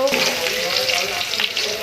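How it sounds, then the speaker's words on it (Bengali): Onions sizzle steadily in a pan over low flame for chilli garlic noodles, a close, even crackle with faint stirring and no talk. "পেঁয়াজটা সামান্য ভাজা ভাজা ভাজা হওয়া পর্যন্ত, ট্রান্সপারেন্ট হওয়া পর্যন্ত কুক করব"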